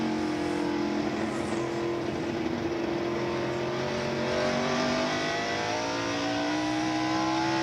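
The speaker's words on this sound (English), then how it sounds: "Here is Dale Earnhardt coming up on Rusty Wallace and taking 4th" NASCAR stock cars racing at North Wilkesboro Speedway in the 1996 Tyson Holly Farms 400, a loud continuous engine roar with shifting tones as the cars run in close pack, no talk over it.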